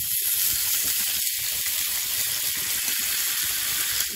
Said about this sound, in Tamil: நறுக்கி வச்ச தக்காளியை போட்டுடலாம்.